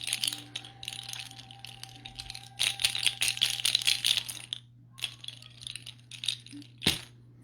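Leg shakers made from deer antler pieces rattle in clattering bursts of hard, dry clicks, shaken in uneven pulses with short pauses and one sharp final clack, close but fairly quiet against a low steady hum.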